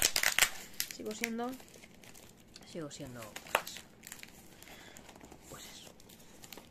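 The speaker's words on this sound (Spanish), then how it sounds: "voy a romper la caja esta vez" Cardboard parcel box torn open by hand, with crinkly ripping and crumpling bursts scattered through, while someone talks over it and some vocal exclamations rise above.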